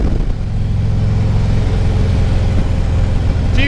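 Motorcycle engine rumbles steadily while riding on a road, a loud close low drone with wind rush and no change in pace.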